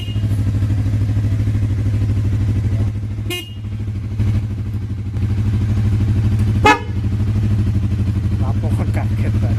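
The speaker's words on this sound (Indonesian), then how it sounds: "ada klakson kencang, klakson trompet atau klakson kerang, dan yang satunya masih klakson orisinil" A motorcycle fitted with loud trumpet, shell and original horns idles with a steady engine hum, broken by two short, sharp horn blasts a few seconds apart.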